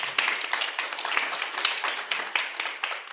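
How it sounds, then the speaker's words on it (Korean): An audience at a conference applauds the presenters, a dense steady round of clapping that stays loud and close for the whole stretch, with no speech over it. "오늘 발표해 주신 네 분 발표자에게 뜨거운 박수 한번 부탁드립니다."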